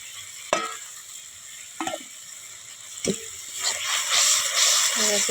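Ground spices with mustard stir-fried for a spicy rohu fish curry: a steady sizzle with several sharp spoon scrapes against the pan, the frying growing louder and busier toward the end.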